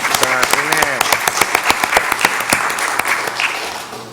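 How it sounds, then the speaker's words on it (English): Audience applause at a civic meeting where a building naming is announced, a dense burst of clapping that begins loud and gradually thins out, with a voice speaking over it near the start. "Give him a round of applause."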